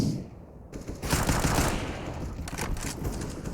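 A decoy grenade in Counter-Strike mimics gunfire during a pro esports match, rapid bursts of automatic fire, loud and continuous, with no commentary over it.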